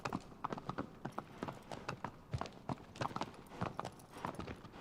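Horse hooves clip-clop in a steady walking rhythm across ground in Shadow of the Colossus on PS4, close and fairly quiet, with no voices over the repeated hoofbeats.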